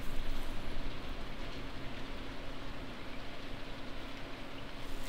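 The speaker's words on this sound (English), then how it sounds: "Well, it's raining out there" Rain falls steadily in a farming video game, a soft continuous patter and hiss with a faint low hum beneath, even and unbroken throughout.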